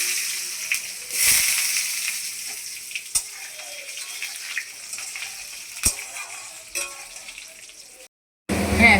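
Potato pieces fry in oil with cumin, bay leaf and dried chilli, giving a steady close hiss with scattered clicks and spatters, briefly cut out near the end.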